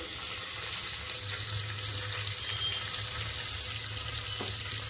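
Spices and ginger garlic paste fry in ghee with a steady, moderate sizzle and hiss, a faint low hum beneath, continuing evenly throughout.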